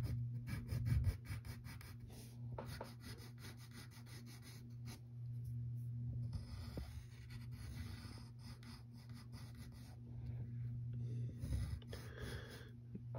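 A pencil sketches a cartoon character on paper, steady close scratching strokes in short bursts and longer sweeps over a constant low electrical hum.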